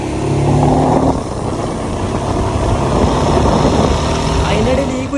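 A car engine runs continuously during a road trip to Idukki, a steady, close, rumbling drone mixed with road noise throughout.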